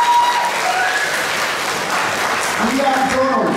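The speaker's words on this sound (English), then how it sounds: "if you want to give a round of applause" Applause from a school audience at a junior prizegiving, close and loud, dense clapping running throughout, with voices starting to come through near the end.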